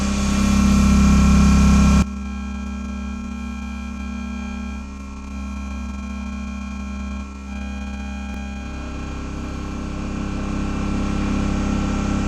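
A wood lathe spinning walnut at 2000 RPM gives a loud, steady motor hum with tonal whine, louder at first, then settling into an even drone that swells again toward the end.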